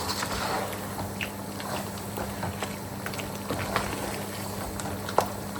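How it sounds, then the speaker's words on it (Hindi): Mutton karahi sizzling in a wok over a high flame, a steady dense crackle and bubbling hiss with a low hum underneath and occasional sharper pops, continuous and fairly close. "अब इसे हमने हाई फ्लेम के ऊपर ही भून लेना है।"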